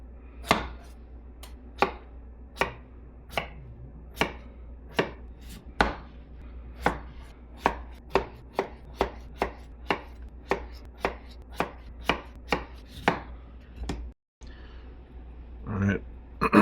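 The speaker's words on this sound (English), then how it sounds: "Cut them into quarters. Cut your quarters into cubes." Potatoes being cut into cubes with a kitchen knife on a board, a steady series of sharp, close chopping knocks at a brisk, even pace, with a short pause near the end.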